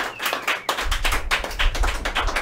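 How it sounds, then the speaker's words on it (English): Studio audience clapping at a spooky-themed talk show after a guest performance, a dense run of close hand claps with a brief dip near the start, then steady ongoing applause. "Everybody give one more round of applause to Gene Berry."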